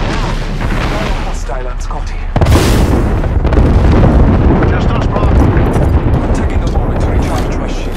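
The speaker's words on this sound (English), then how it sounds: "That's a grenade!" A grenade blast in the Apex Legends video game bursts in loudly about two seconds in, followed by a dense, sustained roar of combat noise with gunfire-like crackle beneath.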